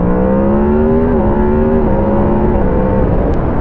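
A 2022 Yamaha MT10 SP motorcycle engine revs loudly and close up, a steady throaty drone with its pitch stepping down in stages, no talk.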